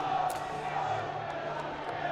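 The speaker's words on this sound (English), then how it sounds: "There's a strong Alloa contingent behind the goals, cheering them on" Alloa supporters gather behind the goals at a Scottish League 1 football match against Hamilton, a steady wash of crowd noise and cheering that holds at an even level throughout, with occasional louder shouts rising out of it.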